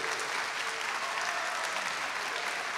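Audience at a kendama versus street dance and freestyle basketball battle applauds for the red-corner kendama team, a steady, dense wash of clapping from a large crowd filling the whole moment with no break.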